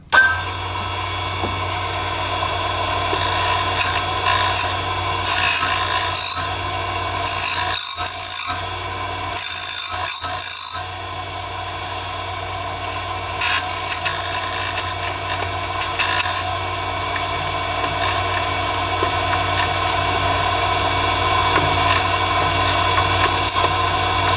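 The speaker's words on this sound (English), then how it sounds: "I went ahead and I just flipped over to the other side of the key, and let's cut it." An H75 key is cut on a JMA Nomad manual key cutting machine, a steady close mechanical whirr and grinding with tonal hum, interrupted by brief cuts and scraping bursts across the long run.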